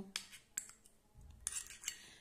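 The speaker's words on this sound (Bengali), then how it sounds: "এখন আমি সমস্ত উপকরণগুলো ভালো করে মিক্সড করে নেব" Bowl mixing of potato juice face pack ingredients with solidified coconut oil: light scraping and clinking of a spoon against the bowl in irregular taps, fairly quiet and close, with no talking.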